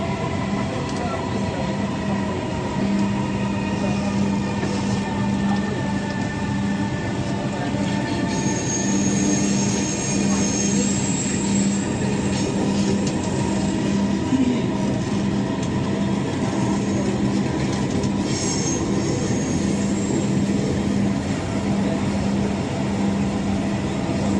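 A Dhaka Metro Rail train runs between stations on the line toward Motijheel, giving a steady loud rumble with an electric motor hum and occasional high wheel squeals heard from inside the carriage.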